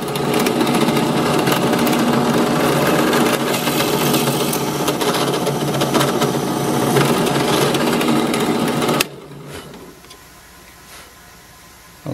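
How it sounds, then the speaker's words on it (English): A power drill whines loudly and steadily for several seconds, then cuts off abruptly, leaving quiet background noise. "we'll drill another hole"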